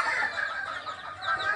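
Chickens clucking and chirping close by, a hen with her chicks on a farm, a soft continuous chatter of high calls lasting under two seconds with no talking.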